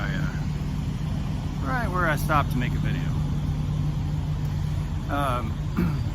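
A semi truck engine idles during exhaust regeneration, a steady low rumble with a constant hum that runs throughout, while someone talks briefly over it.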